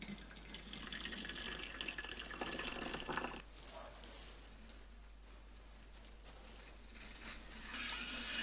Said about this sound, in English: And I pour it all over the foil so that I can dissolve the aluminum